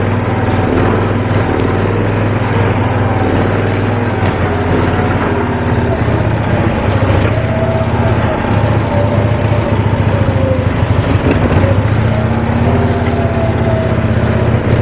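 A 1972 Cushman pickup's small engine runs continuously during a ride, a loud, rough buzzing drone with a steady low throb and rattling, its pitch wavering slightly as the vehicle moves along.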